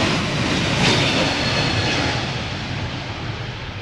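JetBlue Airbus A321neo jet departing Schiphol's Polderbaan runway, a loud, steady broadband engine roar close by that swells slightly and then slowly eases off.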